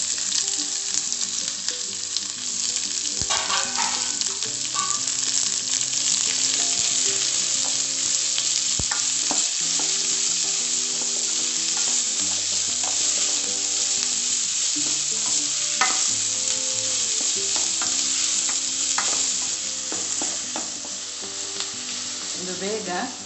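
Red onions frying in a pan for masala dosa, a continuous loud sizzle with occasional stirring scrapes, no voices.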